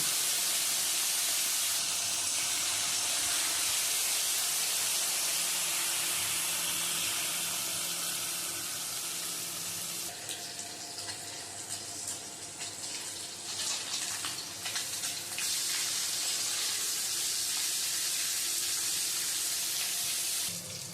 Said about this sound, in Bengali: এখন মাছগুলো একটু ভেজে নিয়ে